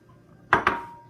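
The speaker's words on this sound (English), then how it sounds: "Now, we're gonna add our carrots to this." Frozen carrots tipped into a pot of smothered pot roast, two quick hard clattering hits close by followed by a short ringing decay, with no talking.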